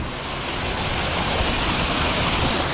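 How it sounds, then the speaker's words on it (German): A foamy waterfall in Hawaii roars as a continuous dense rushing wash, steady and fairly loud from start to finish, with no voices. "Jetzt zeige ich noch einen Wasserfall mit Schaum."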